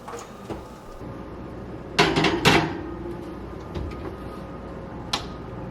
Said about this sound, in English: So now we take this and we put it back in the oven for 15 minutes.